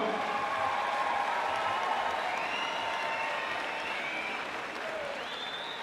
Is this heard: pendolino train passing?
no